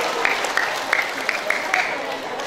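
Applause from an audience at a Maulid Nabi gathering, a steady wash of clapping with a voice cutting through in short bursts above it.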